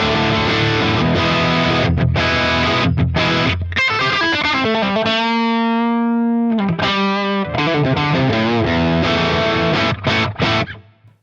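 A distorted electric guitar through an Axe-Fx/FM9/FM3 amp modeler with the treble turned up plays chords and a sustained ringing note, loud and close, with a processed amp tone and no talking.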